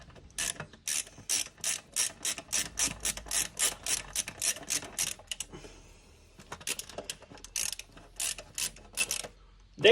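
Screws driven in while fitting a Samsung 870 QVO 4TB SSD into a computer: a close, rapid series of sharp ratcheting clicks from a screwdriver, then a pause and another short burst.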